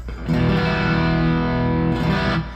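A heavily distorted electric guitar, a First Act Face Melter converted to an Esquire with an import pickup, rings out in one sustained, thick chord, loud and close, with no talking over it.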